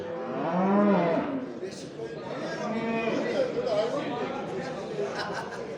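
Cattle moo loudly and close at a busy livestock market in Sungurlu, Çorum, where pregnant cows and calves are traded, with steady crowd chatter and voices underneath.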